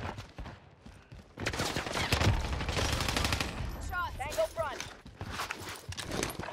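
AK47 gunfire in a shooter video game, a dense stretch of rapid bursts and shots with a fast rhythm, loud and continuous, with game sound effects and talk mixed in.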